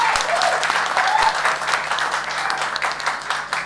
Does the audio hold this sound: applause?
yes